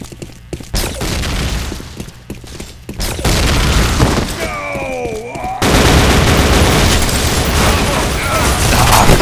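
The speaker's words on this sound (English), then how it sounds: "Love this coil gun." A coil gun firing in the shooter game Repulse, heavy booming discharges amid a busy battle with electronic whines and mechanical sounds, loud and close, with a player speaking over it.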